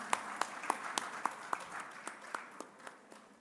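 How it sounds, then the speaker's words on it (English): A conference audience at a panel discussion claps for an arriving panelist, with several prominent sharp nearby claps ringing over a steady wash of lighter applause throughout. "Please, a round of applause for him as he comes."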